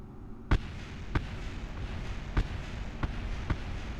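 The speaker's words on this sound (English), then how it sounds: "sonic booms" Sharp booming thumps from a spacecraft's reentry in Kerbal Space Program, five distinct hits spaced unevenly over a steady low rumble, with no talking.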